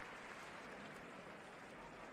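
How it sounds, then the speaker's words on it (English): Football fans in a stadium after a J.League cup group-stage derby clap in a soft, distant, steady round of applause with no speech on top. "a warm round of applause in appreciation of their efforts"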